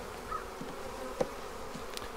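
Honey bees buzz around an opened nuc hive, a soft, steady hum close by with faint clicks and knocks from handling frames.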